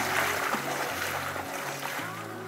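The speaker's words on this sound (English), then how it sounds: "it's a quick trip on this double engine boat" Double engine boat motoring across open water off the Philippine coast, a steady droning hum with a low pulsing beat, wind and water wash over it, fairly faint and continuous.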